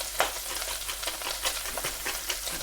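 Meat browning in a hot pan for a Norwegian lapskaus stew, a steady close sizzle and crackle of frying with faint stirring, continuous and unbroken with no voices.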